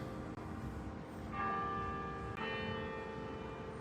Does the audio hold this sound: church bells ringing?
yes